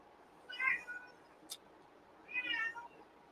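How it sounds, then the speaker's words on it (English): A pet cat gives two separate meows indoors, a short pause between them, clear and fairly close over a quiet background, with a brief click-like noise in the middle. "She's over there meowing."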